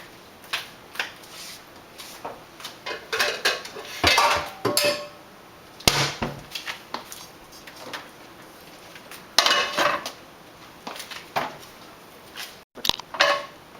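A wok is handled during cooking, with irregular clanks, knocks and rattles of metal cookware spread over several seconds, some louder bangs among quieter shuffling, heard close in a quiet room.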